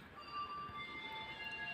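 A KSR Bengaluru to Kolar DEMU train stands at a station, giving a steady low diesel rumble with faint sustained whining tones and no break.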